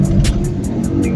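A car engine labours hard through flood water in Bazpur, a steady low rumble and strain running throughout, fairly loud, with faint periodic hiss above.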